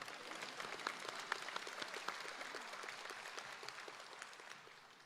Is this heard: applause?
yes